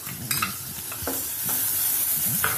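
Tomatoes drop into a pan of onions frying until translucent, a close sizzle with a few soft thuds and stirring scrapes over a brief moment.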